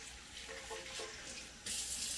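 Warm water runs from a kitchen tap for making sourdough, a steady close splashing stream that grows louder and brighter partway through as the flow increases.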